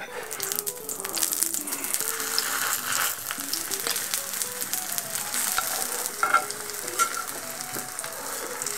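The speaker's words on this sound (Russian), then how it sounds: "Блины я буду жарить на топленом масле." Steady, close sizzling and crackling of pancake batter frying in clarified butter, with faint clinks and scrapes of a pan or utensil.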